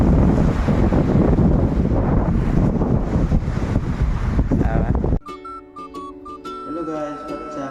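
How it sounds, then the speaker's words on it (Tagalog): Strong wind buffets the microphone alongside rolling sea surf on Malumbe beach, a loud, dense roar for about five seconds before it cuts abruptly to a melodic musical passage. "Dagat guys, dagat ni Malumbe."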